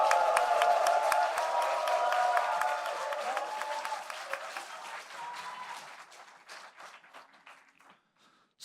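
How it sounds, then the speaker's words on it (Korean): A political rally crowd for a local election candidate in Seoul claps and cheers loudly and continuously, then the applause slowly thins out into scattered claps and fades near the end. "여러분 아낌없는 큰 박수와 함성을 보내주시기 바랍니다"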